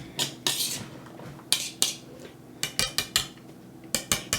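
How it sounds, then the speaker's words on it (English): Eggs being stirred into a meatball mixture in a bowl, a utensil clinking and scraping against the bowl in irregular close taps with no talk. "Get the eggs all mixed up real good in it."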